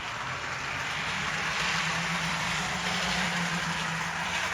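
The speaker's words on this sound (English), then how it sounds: "it is running well in both directions" A brass Totem Models 4-6-0 model steam locomotive runs along its track with a steady, continuous mechanical whir and faint rumble, even and unbroken from start to finish, with no voices.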